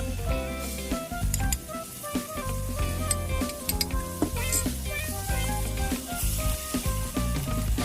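Pork stir-fried in homemade red curry paste with a splash of water for a Thai jungle curry, sizzling steadily with scraping stirs and clinks of a pan under loud continuous music.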